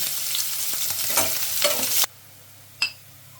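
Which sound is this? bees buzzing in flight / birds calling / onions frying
onions frying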